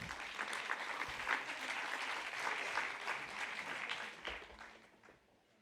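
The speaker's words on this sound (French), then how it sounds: "vous pouvez les applaudir" An audience at a conference on disability and neuroevolutive illnesses applauds a panel, a sustained, moderately distant patter of many hands that tapers off near the end.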